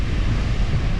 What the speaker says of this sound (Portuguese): Olha o vento, velho. Olha o vento. Tá caindo areia em cima.